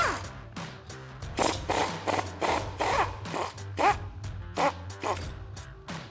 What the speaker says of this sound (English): I'll switch to a 15mm socket for our two lower strut bolts